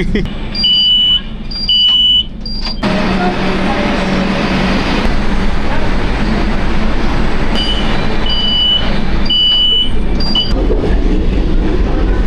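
A Kolkata metro train from Howrah to the airport rumbles along loudly and steadily, with bursts of repeated high electronic beeps at the start and again later, and people talking.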